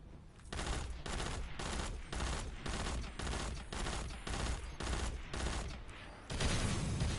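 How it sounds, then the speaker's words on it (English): Rapid, steady bursts of energy-weapon fire from Destiny, pulsing in an even rhythm of repeated volleys, moderately loud and sustained, with no talking. "Those little arc bolts that brick shoots, even from a far distance."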